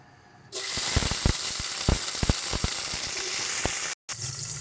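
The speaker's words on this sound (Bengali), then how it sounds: "এবার এর মধ্যে আমরা ভেন্ডিটাকে দিয়ে ভেজে নেব।" Okra drops into hot oil and bursts into a sudden loud sizzle, with scattered pops and clicks, then a brief dropout before the frying resumes.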